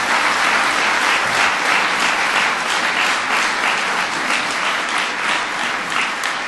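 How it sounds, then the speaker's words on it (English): Loud, sustained applause from a large crowd at a presidential speech, dense clapping that continues steadily from start to finish. "You can give her a round of applause."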